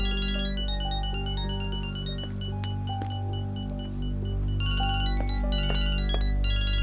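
A phone ringing in a dubbed Turkish drama scene, with a repeating electronic ringtone melody of bright tonal beeps sounding steadily over a low rumbling background.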